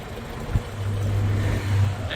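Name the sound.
car engine revving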